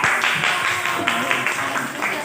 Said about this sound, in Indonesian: Tepuk tangan untuk kompetisi.